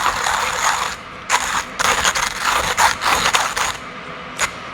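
A JX Pro manual grinder crunches Ethiopian Sidamo coffee beans in short, rattling bursts of crackly grinding, separated by brief pauses, close and fairly loud with no talking.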